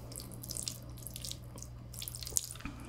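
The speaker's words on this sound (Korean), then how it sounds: "시간이 흘렀으니까 면수를 좀 뿌려줄게요" Pasta cooking water splashes and trickles into a hot pan amid a low steady hum, with soft sizzling and faint drips throughout.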